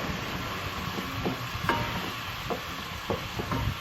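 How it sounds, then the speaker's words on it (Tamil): Chopped tomatoes with turmeric fry in a pan for a Sri Lankan-style dried anchovy dish, a steady sizzle under a spoon that scrapes and taps against the pan several times, close up and with no talk. "இப்போ நாம் இதில் கொஞ்சமாக மஞ்சத்தூள் சேர்த்துக்கொள்ளுவோம் கலருக்காக வேண்டி. அதையும் கொஞ்சமாக மிக்ஸ் பண்ணிக்கொள்ளுங்க."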